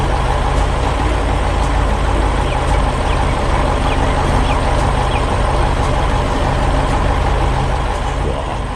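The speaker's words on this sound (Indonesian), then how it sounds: "Lihat truk dump besar itu datang. Dia membawa tumpukan batu untuk membangun fondasi yang lebih kokoh di sini." A big dump truck loaded with stones arrives at a construction site, its heavy diesel engine rumbling steadily and loudly throughout with a continuous low drone and no talking.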